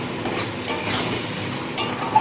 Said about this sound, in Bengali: সমস্ত মশলা দিয়ে দিলাম দিয়ে খুব ভালো করে আবার একটু কষিয়ে নেবো